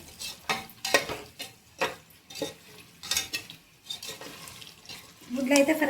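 Eggs for egg biryani fry in a pan, with a soft sizzle beneath repeated utensil scrapes and stirs coming in rhythmic bursts, close and moderately quiet, growing louder at the end.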